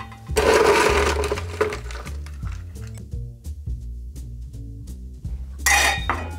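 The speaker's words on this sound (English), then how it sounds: "We're gonna add a little bit of ice." Ice going into a rocks glass, a loud rattling clatter of cubes tumbling in, then a run of sharp clinks as pieces settle and knock against the glass, ending with another burst of rattling, with nobody talking.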